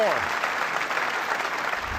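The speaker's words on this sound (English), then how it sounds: "What a win and what a reception from this crowd" A snooker crowd applauding Joe Perry's 10–4 World Championship win over Mark Selby, dense sustained clapping filling the hall, loud and steady throughout, with a brief vocal sound at the very start.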